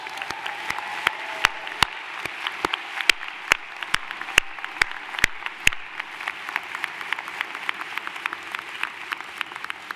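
A crowd applauding at a graduate school commencement ceremony, with sharp individual claps standing out over a steady wash of clapping, continuing throughout.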